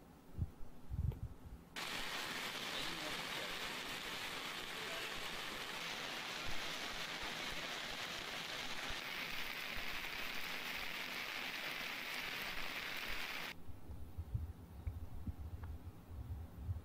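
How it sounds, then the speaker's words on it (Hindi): Heavy, continuous rain pours down in Dungarpur district as a steady, dense hiss that holds for most of the stretch, then cuts off near the end, with no talking. "डूंगरपुर जिले में बारिश का दौर लगातार जारी है"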